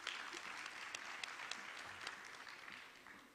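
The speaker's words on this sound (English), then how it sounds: "A round of applause for Masikwe Investment" A mining and energy investment conference crowd gives a round of applause for Masikwe Investment, a faint, distant, even wash of clapping that tapers slightly toward the end.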